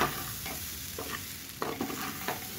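A rice and mung dal khichuri with tomato and garam masala powder fries in a pan, giving a steady close sizzle broken by several scraping stirs of a spatula.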